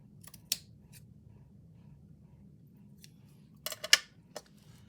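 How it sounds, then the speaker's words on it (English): Scissors cut the corner of a hard journal cover, making a few sharp, close snips, one early and a quick cluster near the end, with near silence between. "So I'm gonna cut this corner."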